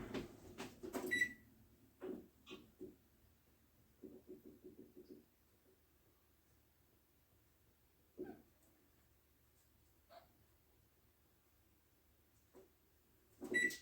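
Oven control panel on a kitchen range being set to preheat to 475, a few short electronic beeps and button taps spaced out amid quiet handling noises.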